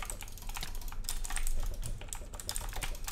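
Rapid mouse clicks and key taps rattle through a SkyWars match in Minecraft, a dense irregular patter of sharp little clicks close to the microphone with a faint voice in the background.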